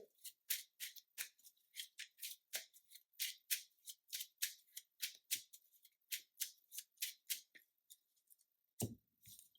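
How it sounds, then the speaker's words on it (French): Playing cards for the Marvel Champions card game are shuffled by hand in a quiet room, a long run of crisp riffling bursts in an uneven rhythm, close and clear, with a soft thump near the end. "J'ai le droit de remélanger mes cartes"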